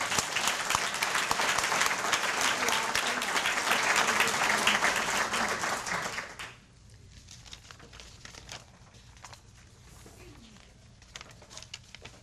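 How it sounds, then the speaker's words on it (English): A crowd at a chamber of commerce lunch applauds loudly for about six seconds, then the clapping drops away to scattered faint claps and room noise. "How about another round of applause?"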